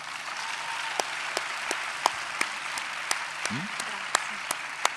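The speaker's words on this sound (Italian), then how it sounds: "Le fate un applauso?" An audience at an Italian self-help workshop applauds, a soft, steady patter of clapping with a few sharp, closer claps standing out regularly above it, and a brief voice passing underneath.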